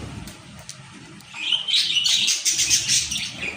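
Pet lovebirds coming down to feed let out a burst of high chirps and twittering that starts midway and grows louder, close by after a quieter opening.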